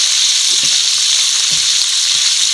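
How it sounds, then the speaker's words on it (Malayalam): Rabbit meat sizzling and frying in a pan with salt as it is sautéed, a steady continuous crackle with a few soft stirring scrapes, close and alone. "ആവശ്യത്തിന് ഉപ്പിട്ട് കൊടുക്കാം നമ്മൾ ഇറക്കി വേവിച്ചത് ഉപ്പിട്ടാണ് അതനുസരിച്ച് പോരാത്ത ഉപ്പ് ഓരോന്നിനും ചേർക്കാവുള്ളൂ നല്ലപോലെ വഴറ്റിയെടുക്കുക"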